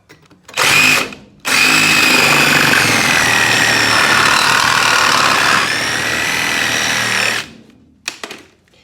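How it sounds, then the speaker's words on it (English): A loud, continuous power-saw whine cutting through a wooden 2x2 on a 1973 Serro Scotty camper, starting with a short burst, then a long sustained cut toward a carriage bolt before stopping. "I'm just gonna start sawing away until I get to the carriage bolt."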